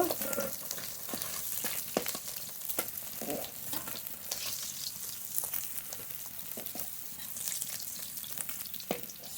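Fish frying in oil crackle and sizzle steadily up close, with frequent sharp pops and spatters scattered throughout and no voices.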